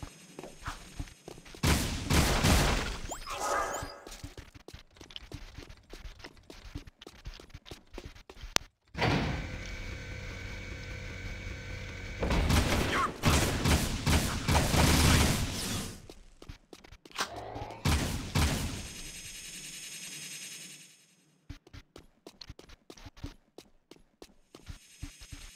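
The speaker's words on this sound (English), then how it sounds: "the Vulcan Fury, or the minigun, is a pretty good weapon against those robots" Vulcan Fury minigun firing in Jak 2, several long loud bursts of rapid automatic fire separated by short pauses, with clanks and impacts in the gaps.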